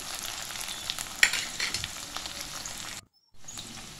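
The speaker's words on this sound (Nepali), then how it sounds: "यो आलुलाई चाहिँ हामी 2 मिनट जति एकदमै राम्रोसँग भुट्दैछौँ" Potatoes fry in a pan and are stirred while cooking for snake gourd curry, making a steady close sizzle with scraping and clinks from the spoon and one sharp tap, then a short break before the sizzling starts again.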